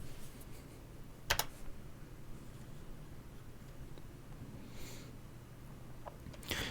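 Scattered keyboard key presses type a router's web interface address, a few distinct clicks over quiet room hiss with pauses between them; no speech.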